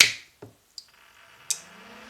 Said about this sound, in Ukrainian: Реле клацнуло.